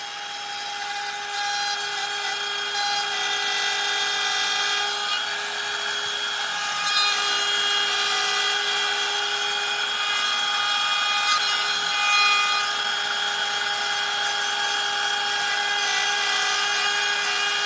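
A router with a quarter-inch upcut bit cuts wood in a workshop, giving a steady, high-pitched whining scream that holds for the whole stretch, close and moderately loud, without talk.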